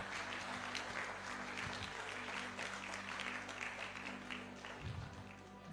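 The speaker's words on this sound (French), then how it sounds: "Applaudis grand mon Dieu, ça bien aimé." Church congregation clapping during a sermon on the doctrine of God, a sustained spread of hand claps heard at a moderate distance with a low hum beneath.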